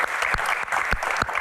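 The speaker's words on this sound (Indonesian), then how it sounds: "Tepuk tangan dulu dong." An indoor audience claps in short, lively applause, a steady burst of many hands with a few sharper claps, loud and close.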